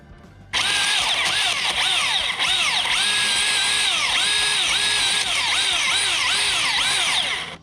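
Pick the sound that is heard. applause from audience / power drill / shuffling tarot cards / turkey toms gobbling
power drill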